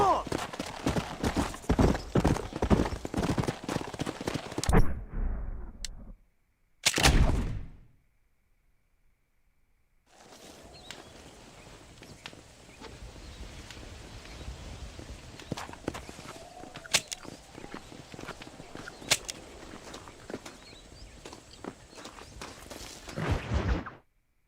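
Horse hooves clip-clop in an open-world video game, a run of steady, fairly loud hoof taps broken by a short silent gap partway through, then more clopping mixed with game sounds and a person talking.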